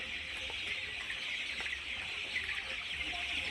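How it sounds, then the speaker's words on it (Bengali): Chickens cluck softly amid a steady background hiss, with scattered short calls and no talking. "মুরগিগুলো বর্তমান ভালো আছে।"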